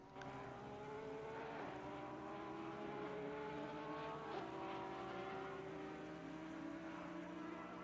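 Race cars circle the Nürburgring in a racing video game, engines droning continuously with rising and falling pitch as they shift gears, a steady loud wash of motor noise with no pause.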